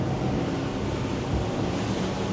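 A Delta 33 Open boat with V10 Mercury outboards runs through waves, its steady low rumble blended with rushing water and wind buffeting the microphone in a constant, close roar.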